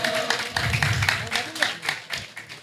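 A scattered round of clapping from a small community gathering, several quick claps rising and fading over a few seconds, mixed with nearby chatter.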